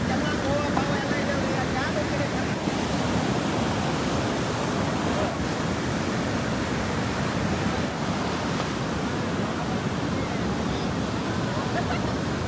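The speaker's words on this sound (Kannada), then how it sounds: "ಒಂದ್ಸತಿ ನೀವೇ ನೋಡಿ ಯಾವ ರೇಂಜಿಗಿದೆ ಅಲೆಗಳು ಇಲ್ಲಿ ಅಂತ" Heavy monsoon surf pounds Apsarakonda beach near Honnavar, a loud continuous roar of breaking ocean waves that fills the whole stretch without pause.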